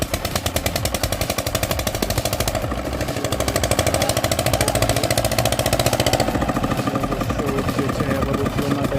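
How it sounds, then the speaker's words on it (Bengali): A small machine engine in a rural Bangladeshi village is cranked and sputters with a rapid, loud, uneven chugging that keeps stumbling without settling into a steady run. "মেশিন স্টার্ট দিচ্ছে।"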